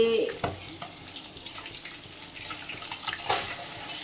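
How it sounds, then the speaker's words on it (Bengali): Fish sizzles in hot oil in a frying pan and is turned over. The frying hiss is continuous, with a couple of sharp clatters as the fish is flipped. "এই যে এখন মাছটাকে উল্টায় দিব।"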